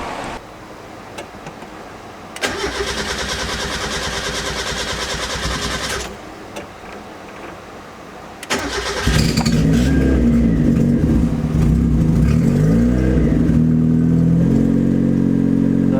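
A turbocharged Honda Civic engine cranks with a starter whine, pauses, then catches and roars to life, revving loudly before settling into a rumbling idle.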